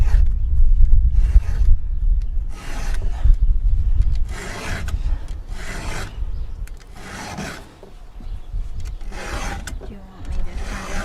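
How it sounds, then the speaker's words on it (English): Hand file rasping across the cutting teeth of a chainsaw chain, a series of short scraping strokes in bursts with brief pauses between them, close by and fairly loud, with some talk in between. "you use the right size file where it fits that cutting tooth"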